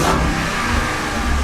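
Ford Bronco Raptor engine revving with the exhaust mode switched on, a brief, loud, close-up surge of throaty exhaust roar that holds steady for a moment.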